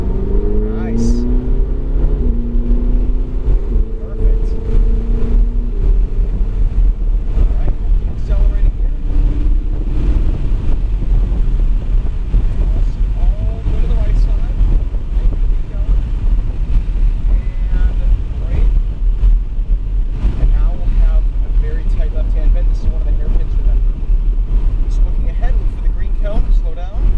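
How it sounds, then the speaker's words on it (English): Ferrari 488 GTB on a race track at Kansas Speedway accelerating at full throttle, a loud continuous engine roar with deep low rumble and heavy wind buffeting throughout, with people talking over it. "We're going to accelerate full throttle."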